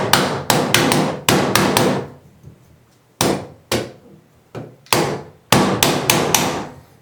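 Repeated tapping as a Delta 1300/1400 series shower faucet cartridge cap is knocked into place, in bursts of two or three sharp close knocks separated by short pauses, loud and clear with no talk.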